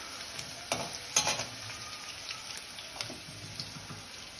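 Avarekai lilva upma fries quietly in a pan, a faint, steady sizzle broken by a few soft stirring clicks and scrapes.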